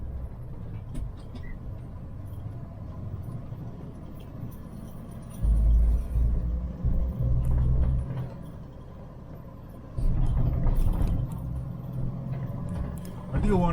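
Jeep CJ-7 engine fitted with a Weber 32/36 carburetor, a low rumbling idle that swells twice into short throttle bursts, close and steady between the revs.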